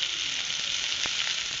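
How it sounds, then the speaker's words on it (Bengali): Flipped stuffed pointed gourds fry in a kadai over a wood-fired clay stove, giving a dense, even hiss of hot oil with one brief sharp crackle. "এক পিঠ হয়ে গেছে, দিয়ে অপর পিঠটা আমি উল্টে দিয়েছি।"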